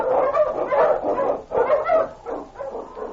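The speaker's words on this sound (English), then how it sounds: "The Wonder Dog King, swiftest and strongest of Eskimo lead dogs, blazes the trail through storm and snow" A sled dog playing an Eskimo lead dog in an old radio drama barks repeatedly and vigorously, a close series of loud, rhythmic woofs and yips with brief pauses.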